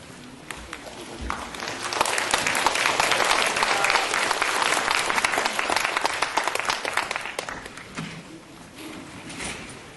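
Audience applause welcoming a speaker at an academic society presentation, rising quickly into dense, sustained clapping from a hall full of people before tapering off near the end.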